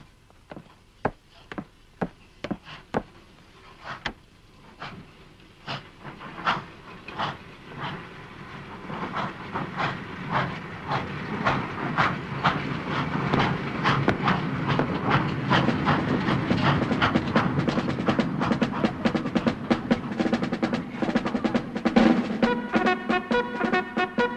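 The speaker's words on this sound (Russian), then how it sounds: "Опаздывайте, поезд уходит." A train pulls away, its slow clacks and chuffs quickening into a dense rhythmic clatter that grows louder and steadier, with hissing underneath.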